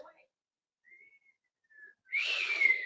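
A person in a scene from the 1988 film Killer Klowns from Outer Space tries to whistle, managing only two faint, thin tones before a louder breathy, rushing blow of air.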